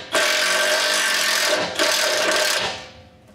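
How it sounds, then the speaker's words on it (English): Self-tapping screw driven into a 2020-2024 Duramax 6.6 truck frame by a power driver, two loud grinding bursts close up, the second fading out. "I've got a self-tapping screw here"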